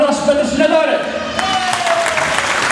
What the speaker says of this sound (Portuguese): agradecer uma grande salva de palmas para os nossos patrocinadores